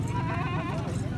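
Baby goats at a cow market in Haripur bleat in wavering, quavering cries close by, over a steady background of market noise.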